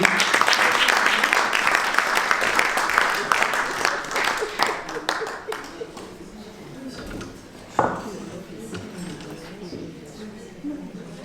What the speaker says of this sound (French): On peut applaudir pour lui.